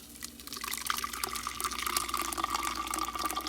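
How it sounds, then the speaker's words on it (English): Green juice being strained, its liquid pouring and dripping steadily through a strainer, a continuous close splashing trickle with no talking. "now I'm gonna strain it."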